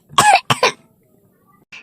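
Two or three harsh cartoon-character coughs close by in quick succession, followed by quiet and a brief faint rasp at the end.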